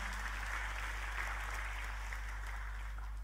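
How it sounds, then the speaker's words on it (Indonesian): A church congregation applauds during a sermon, a soft, distant, even spread of clapping over a loud steady low hum. "Boleh kita kasih tepuk tangan"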